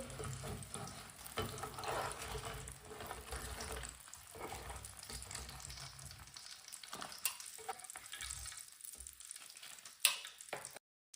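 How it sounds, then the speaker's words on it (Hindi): Chicken pakora pieces frying in hot oil give a steady, fairly loud crackling sizzle for several seconds. A sharp clink comes near the end, then the sound cuts off abruptly. "चिकन हमारा अच्छी तरह फ्राई हो चुका है।"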